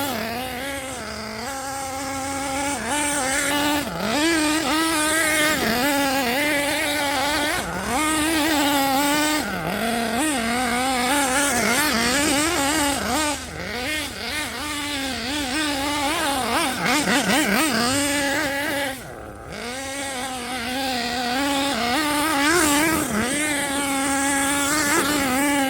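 A nitro RC basher car engine, still running rich during break-in, buzzes with a high, raspy whine. It rises and falls through repeated revs and throttle blips, close and loud, with a brief dip near the end.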